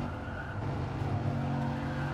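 A BMW M4 engine holds third gear under boost, a dense, loud, continuous drone that stays steady throughout.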